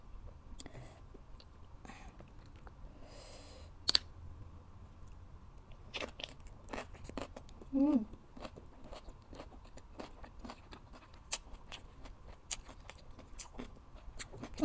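Close, quiet chewing of grilled chicken with vegetables, with soft crunchy bites and wet mouth clicks repeating irregularly and a faint whisper of voice in the background.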